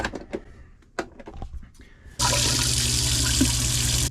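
A few clicks and clatters, then a leaking Delta kitchen faucet turns on and water gushes steadily and loudly into a sink.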